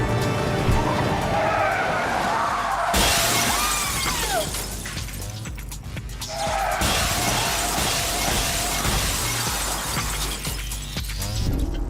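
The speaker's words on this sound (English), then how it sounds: "avoid smashing into the glass" A truck speeding toward a glass pane and braking hard in a hazard experiment, with loud tire skidding and engine noise followed by a sudden crash of shattering glass and a second surge of noise.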